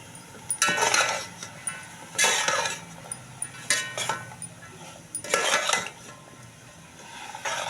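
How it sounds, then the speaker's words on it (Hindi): Cauliflower tipped into a cooking pan for a cabbage-and-egg dish, giving several bursts of scraping and clinking of utensil against metal with light sizzling between them, fairly close, no talk. "अब हम इसके अंदर ये गोभी डालने लगे हैं।"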